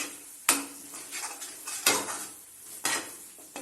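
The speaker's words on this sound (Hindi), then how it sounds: "इसमें हम कसूरी मेथी भी डाल देंगे। इसको भी अच्छी तरीके से मिक्स करेंगे।" Kasuri methi being stirred into paneer butter masala in a pan, a spoon scraping and clinking against the metal in three distinct strokes over a soft sizzle, close by with no voices.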